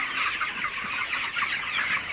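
A dense flock of 27-day-old broiler chickens clucks and chirps continuously in the evening, many overlapping calls forming a busy, steady chatter.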